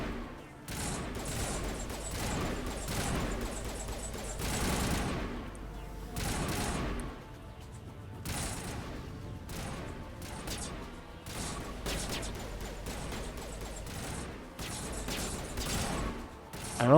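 Sustained bursts of gunfire from a firefight in Mass Effect Legendary Edition on PS5, rapid overlapping shots and impacts running dense and loud throughout, with occasional crashes and booms mixed in and no talking over it.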